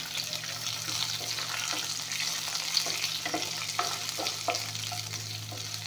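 Bay leaves and onions sizzle steadily in a pan alongside a low background hum, with intermittent stirring clatter and short scraping strokes and no talking.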